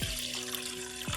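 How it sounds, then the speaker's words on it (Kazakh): Half a litre of water poured into a pot of warming milk while making atala porridge, a short steady trickling splash close by, with no talking. "Үстіне мұның жарты литр су құямыз."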